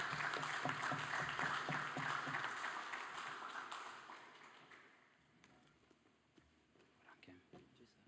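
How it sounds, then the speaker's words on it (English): School assembly audience applauding a student receiving a high-achiever award, steady clapping that fades out over several seconds, leaving a quieter room. "So we will applaud each student as they come up"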